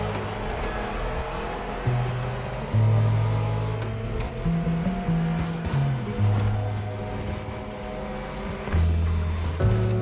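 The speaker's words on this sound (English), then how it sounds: "The Hoonigan racing team has lent us a custom-tuned Camaro Z28." A custom-tuned Camaro Z28 in a racing video game, its engine revving loud and steady as pitch climbs and drops through gear changes, with wind and road rumble underneath.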